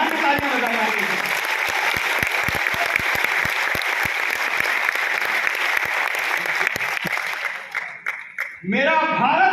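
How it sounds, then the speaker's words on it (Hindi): A large audience claps loudly together at a public address in Varanasi, dense sustained applause close by that thins out near the end before voices return. "उनके सम्मान में तालियां बजाई जाती हैं।"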